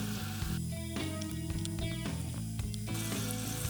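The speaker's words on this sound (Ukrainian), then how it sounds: "На змащену маслом сковорідку викладаємо куряче м'ясо." Chicken meat crackles and sizzles in an oiled hot pan, a continuous frying hiss heard under background music.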